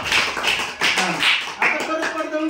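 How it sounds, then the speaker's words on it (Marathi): Children in a classroom clap for a classmate, a series of rhythmic claps mixed with a voice speaking over them. "टाळ्या वाजवा विराजला."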